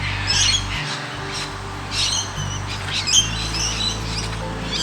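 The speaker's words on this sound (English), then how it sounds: "the birds singing after the rain here this afternoon" Australian birds call after rain toward dusk, with repeated squawks and chirps layered over a low steady hum, fairly close and lively throughout.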